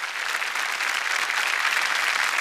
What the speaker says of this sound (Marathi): दोघांसाठी टाळ्या झाल्या पाहिजेत